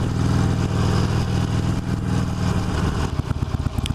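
2016 Harley-Davidson Roadster motorcycle engine, a loud, close, deep rumbling V-twin burble that stays steady, then breaks into choppier pulsing as the throttle changes toward the end.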